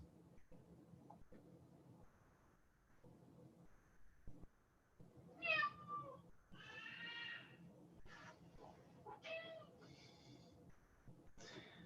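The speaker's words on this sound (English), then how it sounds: "My cat has joined me." A cat meows a few times during a community wastewater Zoom meeting, the short harmonic calls rising over low background room sound and speech-like murmur.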